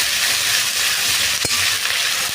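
Ginger sizzles steadily in hot oil in a pan for Bengali vegetarian cholar dal, with a brief sharp clatter near the middle and no talking.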